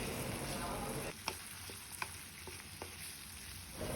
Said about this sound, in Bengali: এর মধ্যে দিয়ে দিব দুইটা টমেটো